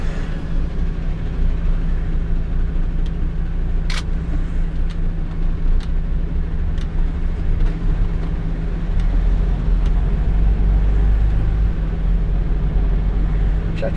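Steady low diesel rumble inside an articulated lorry over 7.5 tonnes driving through town streets, a constant engine drone with faint clicks and a brief sharp tick, building slightly louder toward the end.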